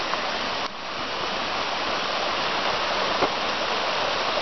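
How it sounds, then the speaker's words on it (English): Small waterfalls in a woodland creek along a forest trail give a steady, full rushing roar of falling water, close and continuous with no talking. "Nice little creek, makes a couple little small waterfalls here."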